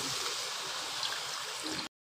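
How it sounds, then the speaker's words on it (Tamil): Thin second-press coconut milk pours steadily into a pot of chicken and pumpkin curry in Kerala style, a continuous close liquid splash and trickle that runs unbroken for about two seconds, then stops abruptly. "ஸ்டேஜில் நம்ம 2வது பால், அதாவது தண்ணி ஊற்றி வச்சுருக்க தேங்காய் பாலை ஊற்றிடலாம்."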